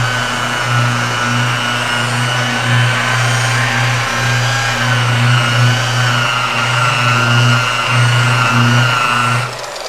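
A Mirka PolarShine polishing machine runs at 1500 rpm with a loud, close, steady motor hum and a slightly wavering whine, then cuts off abruptly at the end; no one speaks.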